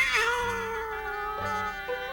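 A cat meows in one drawn-out, wavering cry followed by a shorter second meow, close and clear, a sound effect from a VCR board game of Chutes & Ladders.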